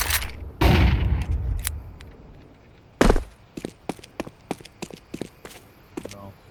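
Flashbang grenades pop in Counter-Strike 2 on the Inferno map, with two loud close bursts followed by a quick scatter of sharp, gunfire-like clicks and knocks.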